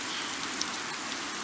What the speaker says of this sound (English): It's raining for once.